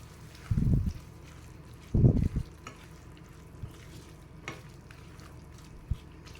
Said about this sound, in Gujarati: હવે આ બધું મિક્સ કરી અને આપણે મિક્સ કરી લઈશું